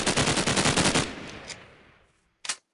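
An AK-47 fires a loud rapid automatic burst in a modded video game, then the echo tails off. One more short, sharp shot follows after a brief pause.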